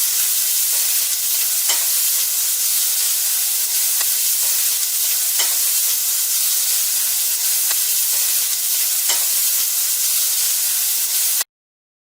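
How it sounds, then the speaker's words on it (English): Onions fry on high heat in a pan, a loud, dense, continuous sizzle with faint periodic stirring scrapes, ending abruptly in silence. "we're going to put our onions in, and we're going to just cook them until they are translucent"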